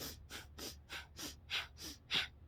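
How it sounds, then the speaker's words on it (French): Sacred fire breathing exercise for opening the chakras: eight sharp, forceful breaths in an even rhythm, close to the microphone and alone, with no talking. "la respiration sacrée, ça se fait un peu comme ça"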